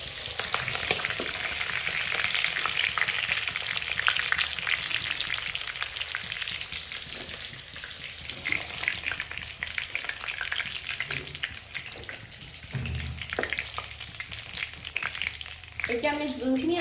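Chicken pieces for butter chicken masala frying in hot oil in a home kitchen, a steady close sizzle with occasional stirring scrapes and bursts of spitting, with no talk over it.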